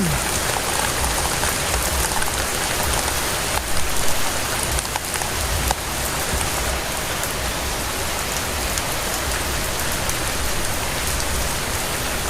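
Heavy monsoon rain pours down suddenly and steadily, a dense hiss of drops drumming on surfaces all around, loud and unbroken.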